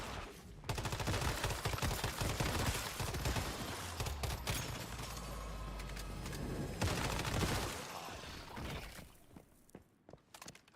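Loud, dense gunfire and bursts in a video game fill most of the clip, with a flashbang blast and crashing impacts, easing toward quieter scattered shots at the end.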